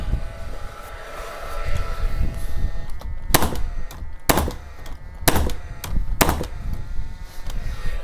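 Nail gun firing nails downward from the top while a steel beam is being installed, four sharp separate bangs spaced about a second apart over steady background noise.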